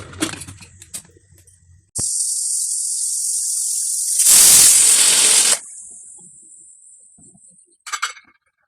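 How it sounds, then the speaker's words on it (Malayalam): A kitchen pressure cooker lets out a long, loud, steady whistle with a rush of steam hiss that swells to a harsh burst midway, then cuts off, followed later by a short sputter of escaping steam. "കുക്കറിൽ വിസിൽ വന്നതിന് ശേഷം കുറച്ച് നേരം"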